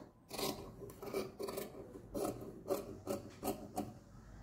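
Quilt fabric pieces are cut with scissors in a quiet room, giving about eight short, soft rasping snips close by in an irregular rhythm, with no one speaking.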